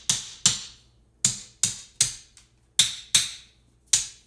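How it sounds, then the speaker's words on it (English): Repeated hammer taps drive a meat cleaver down through a raw rutabaga, eight sharp, close knocks in an uneven rhythm with short pauses between, heard alone with no talking. "Tap it with the hammer."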